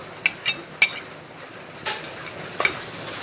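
Chopped fried chicken being mixed with mayonnaise in a bowl for a Malabar-style shawarma pola filling, heard as a few sharp utensil clinks against the dish and soft stirring scrapes, close and alone.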